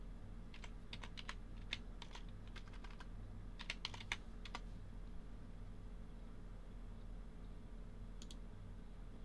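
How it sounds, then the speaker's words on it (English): Bursts of typing on a computer keyboard, with quick irregular clicks in clusters over the first five seconds, then a short final flurry, faint and close over steady low background hum. "Recording right now as I'm typing."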